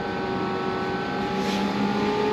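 Diesel engine just after starting on a cold winter day, idling steadily with a constant drone and exhaust blowing, loud and close throughout with no talk.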